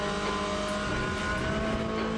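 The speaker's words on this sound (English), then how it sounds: "There's a faster class car approaching." Race car engine from Le Mans Ultimate, a faster class car closing in during an endurance event, a steady loud drone with rising engine tones over continuous track noise.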